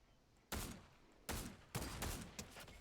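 Loud sniper rifle shots in Fortnite: four sharp, heavy cracks, each with a booming tail, spaced irregularly about half a second to a second apart, with no voices.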